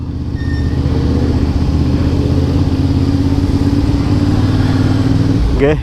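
A loud, steady Honda CB650R motorcycle engine rumble with a deep exhaust drone, close by and running continuously, fading near the end.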